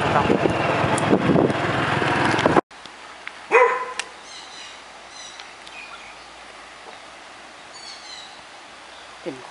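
A dog barks a few times at a person out on a fishing trip, a short loud burst after a sudden cut, then distant birds chirp over quiet outdoor ambience.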